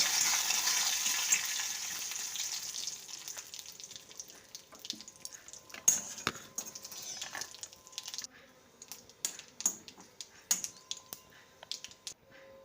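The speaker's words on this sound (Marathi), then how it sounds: "आता याला तडका देऊन द्यायचा चटणीला जिरं अर्धा चम्मच मोहरी आणि कढीपत्ता दोन सुके लाल मिरच" Cumin, mustard seeds, curry leaves and dried red chilies tempering in hot oil for rava dosa chutney, a steady sizzle fading into sharp irregular crackles and pops of spluttering seeds.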